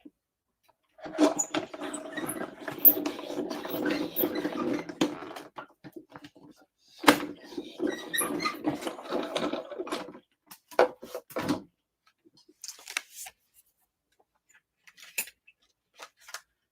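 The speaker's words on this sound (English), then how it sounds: "I'm going to go to the side and put this through my die cutting machine." A die cutting machine pressing a card piece during a card-making session, heard as bursts of grinding, cranking mechanical noise with pauses and scattered clicks and rustles, close and fairly quiet.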